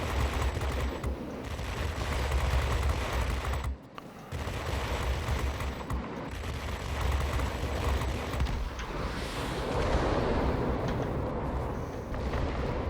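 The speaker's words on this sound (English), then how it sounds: "It's important to burst these guns" Guns of a BV P.210 tier VIII multi-role fighter in World of Warplanes fire in repeated bursts, a loud rattling roar over droning engine noise with a brief gap partway through.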